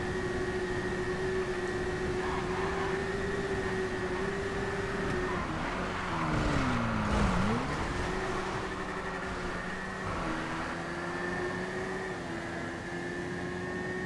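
Akuma motorbike engine during a GTA FiveM street race in the video game, a steady, droning whine that dips sharply in pitch midway before climbing back and holding, continuous and fairly loud.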